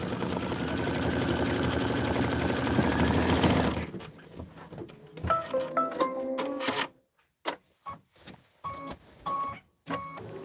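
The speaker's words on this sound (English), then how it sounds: "we're 6 minutes into an 18-minute stitch out" An embroidery machine stitching an autumn border design whirs in a fast, loud, steady rhythm, then falls into intermittent stuttering bursts of stitching separated by short pauses.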